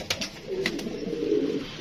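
Soft, low cooing of pigeons, a continuous rolling murmur close by, with a few faint clicks and rustles.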